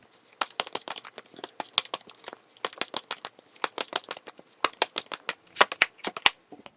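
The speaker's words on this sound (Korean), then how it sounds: "마지막으로 결과 카드 뽑고" Tarot cards being shuffled and drawn for a love reading, producing a dense run of crisp papery riffles and flicks close by, with no talking.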